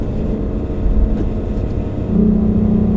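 A Lexus RC 350 F Sport's engine settles to a low idle-like drone around 1500 RPM as the car coasts on a track cool-down lap, a steady, close rumble that swells slightly near the end, with no talking.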